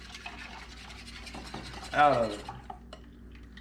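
A spoon stirring banana pudding mixture in a cooking pot on the stove, giving soft scraping and rubbing strokes under a woman's speech, with one louder swirl in the middle.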